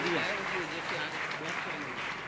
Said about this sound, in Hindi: जोरदार तालियां तो बजाओ मेरे भाइयों